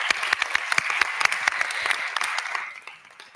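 A crowd at an arts and culture summit applauding with dense, steady clapping that carries on strongly, then thins and fades out toward the end.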